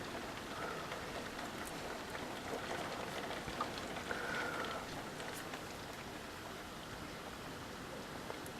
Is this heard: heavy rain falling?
yes